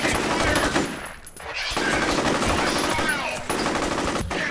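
Sustained automatic gunfire from the first-person shooter game F.E.A.R. rattles loudly and almost continuously, dipping briefly before resuming in dense bursts.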